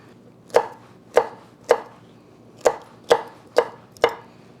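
A knife cuts the ends off a pepper on a cutting board with seven sharp, evenly spaced chops, close and fairly loud, with no talking.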